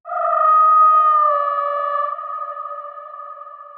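A cinematic signature sound in a Jurassic World style, drenched in black-hole reverb: a sustained, loud tonal cry with layered pitched harmonics that swells, then slowly fades with a long tail, heard alone.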